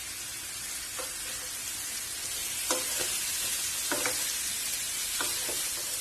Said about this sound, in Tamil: நாம போட்டிருக்கிறது ஃபுல்லும் போன்லெஸ், அதனால கொஞ்சம் ஹை ஃபிளேம்லயே வச்சுட்டு நம்ம வந்து ஃப்ரை பண்ணிக்கலாம்